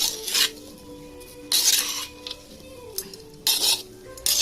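A spoon scrapes and stirs olive pickle in oil inside a large metal wok, making repeated rasping scrapes in bursts roughly every second, close and moderately loud.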